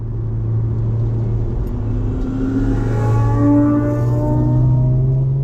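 A Chrysler Crossfire SRT6 accelerating hard on a race track during a track day, its engine note climbing through rising gears in a loud, close, steady in-car drone with no talk.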